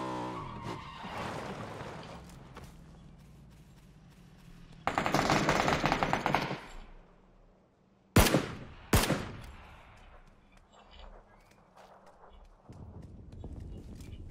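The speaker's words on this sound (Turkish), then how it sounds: "Arkadaşlar yukarıda inanılmaz bir çatışma çıktı." A firefight in the video game PUBG brings a dense burst of automatic gunfire, then two sharp, loud single shots, with fainter scattered pops trailing off afterward.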